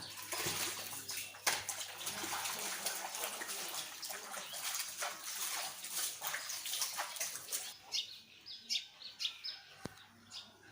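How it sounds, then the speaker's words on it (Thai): Hands washed under running water outdoors make a continuous splashing flow, close and fairly loud, breaking into intermittent splashes and drips near the end, with birds chirping in the background. "ล้างมือกันครับ"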